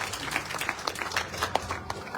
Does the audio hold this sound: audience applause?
yes